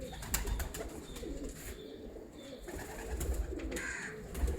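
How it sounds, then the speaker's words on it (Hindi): A pigeon coos softly amid rustling background noise, low and fairly faint, with no one speaking. "लेकिन कबूतर बड़ा नायाब है, लाजवाब कबूतर है"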